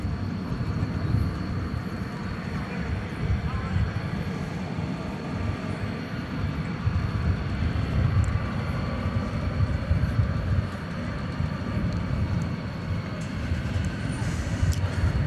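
An American Airlines Airbus A320 moves on the ground at DFW Airport with a steady, moderate jet engine rumble that persists throughout and stays fairly even, while a voice talks over it at times.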